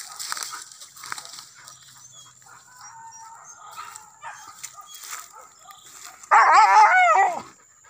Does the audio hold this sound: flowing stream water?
no